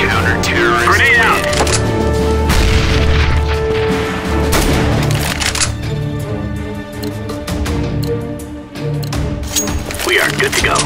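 A grenade blast in Counter-Strike: Global Offensive on the Train map, a loud boom and crackle buried in dense, continuous gunfire and game noise, with voices heard over the din.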